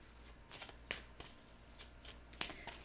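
Tarot cards are shuffled by hand in a quiet room, giving a series of soft, crisp riffling bursts at an irregular rhythm, close to the microphone.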